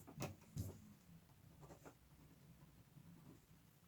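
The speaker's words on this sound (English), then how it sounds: "So let me write that down." A pen writes numbers by hand while a micrometer measurement is noted, a few quick scratchy strokes near the start followed by quieter faint scribbling, close and alone.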